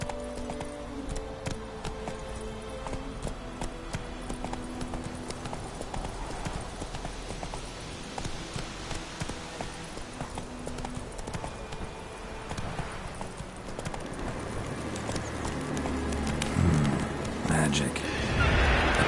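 A horse gallops in The Witcher video game, its hooves clip-clopping in a steady rhythm beneath game music and ambience, while a voice talks over it.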